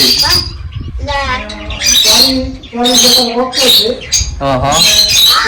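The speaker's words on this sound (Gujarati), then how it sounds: "ચાલીસ જેવા ચકલા છે ચાલીસ થી પચાસ જેવા" Forty to fifty sparrows in a home aviary chirp and squawk in a busy, loud chorus close by, with people talking over the birds.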